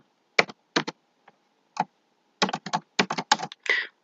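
Computer keyboard keys click in short, uneven bursts, a few isolated taps and then a quicker run of keystrokes, close and fairly quiet with no voices.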